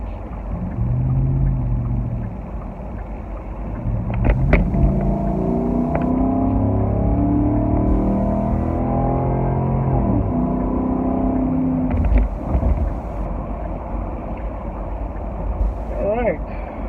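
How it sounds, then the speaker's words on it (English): A Ford car fitted with a Borla performance exhaust accelerates on a freeway, heard from inside the cabin as a steady, loud, deep engine rumble with harmonics that climb and swell throughout. "Well, that was some acceleration."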